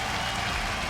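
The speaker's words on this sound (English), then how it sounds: "Romain, he's got the crowd lifting." Esports finals arena crowd for a League of Legends EU LCS Spring Final, a dense continuous roar of cheering and applause filling the whole stretch.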